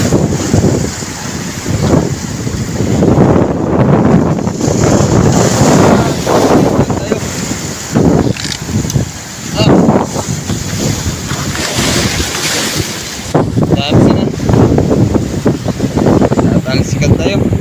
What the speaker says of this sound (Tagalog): babantayan natin kung magtalsik yung alon.